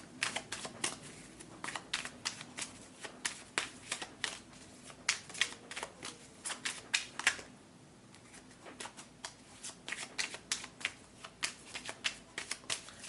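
Tarot cards being shuffled by hand, a quick run of crisp riffling slaps and flicks in uneven bursts, close and soft, with a short pause about halfway through.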